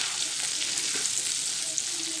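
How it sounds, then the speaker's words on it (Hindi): Okra and onions fry together in a pan for masala bhindi, giving off a steady, dense sizzle that holds evenly close by with no talking. "बस भिंडी और ऑनियंस को एक साथ डाल देंगे"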